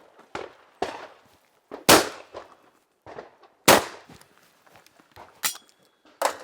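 Shotgun shots at clay targets on a shooting ground, several sharp loud blasts spaced irregularly, some in quick pairs, each with a short decaying tail and quiet gaps between.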